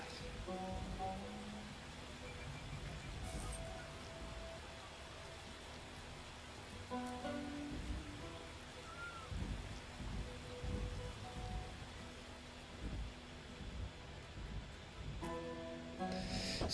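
Rain pours steadily in a city-building video game, a dense hiss with occasional low rumbles and scattered soft musical tones.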